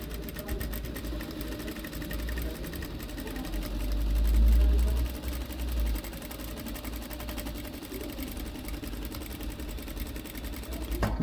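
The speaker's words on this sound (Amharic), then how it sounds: "ከዛ አሁን እስቲ ስፌት እንሞክራለን ማለት ነው።" A domestic sewing machine runs steadily while stitching stretch fabric, with a continuous close whirring hum and fast needle clatter that swells briefly midway and carries on without pause.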